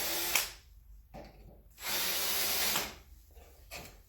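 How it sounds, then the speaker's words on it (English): A power drill whirs in two bursts about a second long each, drilling into a greenhouse door hinge, with quieter scraping and handling noise between them. "I'm going to take my drill."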